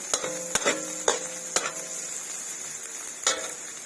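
Onions sautéing in a pan for arroz valenciana give a steady soft sizzle close up, broken by a few sharp clinks and stirring scrapes of a utensil against the pan.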